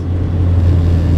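Honda Civic pulling hard in second gear, a steady low engine drone held at near-constant loudness under full throttle, with no speech over it.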